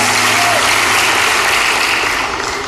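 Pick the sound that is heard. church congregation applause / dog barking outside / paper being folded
church congregation applause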